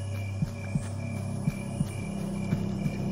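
Heartbeat thumps in the horror-tinged video game Great Toilet Simulator, a steady run of about seven soft low beats roughly every third of a second apart, pulsing over a constant droning hum with no talking.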